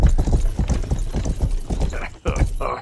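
Stolen horses clip-clop in the medieval video game Rustler (Grand Theft Horse), a brisk, regular run of close hoof thuds that keeps going, briefly broken near the end by a few sharper game sounds.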